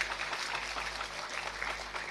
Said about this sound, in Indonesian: tepuk tangan riyen